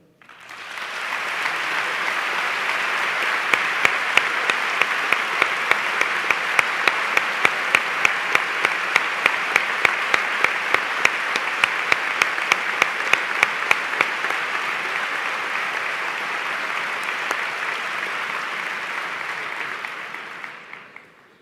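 A large audience applauds steadily for about twenty seconds at a Holy Week proclamation in Seville, dense and loud, swelling quickly and tapering off at the end.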